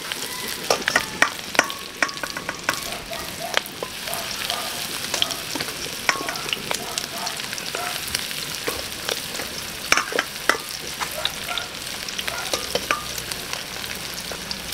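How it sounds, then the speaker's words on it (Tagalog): Beef bones browning in a shallow layer of hot cooking oil, a steady dense sizzle with crackling pops throughout, no talking. "Ipiprito lang natin, hindi naman siya pritong-prito, parang iba-brown lang natin siya."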